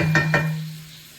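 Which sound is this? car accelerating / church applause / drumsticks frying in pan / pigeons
drumsticks frying in pan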